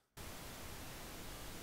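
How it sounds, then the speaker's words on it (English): Pink noise from a Cubase noise generator switches on after a brief silent moment, then holds as a steady, loud broadband hiss weighted toward the low end for the rest of the clip. "So I tried to copy this here in Cubase by using a pink noise generator"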